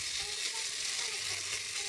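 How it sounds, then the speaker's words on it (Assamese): Rajma kidney beans fry with spices in a pan over a low to medium gas flame, producing a soft, even, steady sizzle that continues unbroken throughout. "এনেধৰণে ৰঙচুৱা হোৱালৈকে ভাজি থাকিম"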